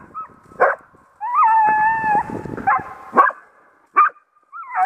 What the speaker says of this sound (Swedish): Skäll på den då.